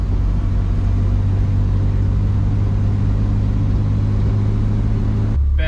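A BMW drift car with a welded differential and dry-rotted tires cruises along, its engine humming in a steady, loud cabin drone with a constant low tone, cutting off abruptly near the end.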